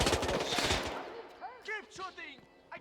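Gunfire in the video game Hitman 2, a rapid close burst of shots in the first second, followed by quieter clattering and game voices talking.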